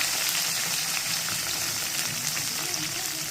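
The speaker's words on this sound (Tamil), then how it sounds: "நம்ம கட் பண்ணி வச்சுருக்க வெங்காயம், கருவேப்பிலை, பச்சை மிளகா இது எல்லாத்தையும் போட்டு நல்லா வதக்கிக்கலாம்" Onions, curry leaves and green chillies sauté in a pan for a South Indian mutton bone soup, a dense, steady close-up sizzle with no pauses.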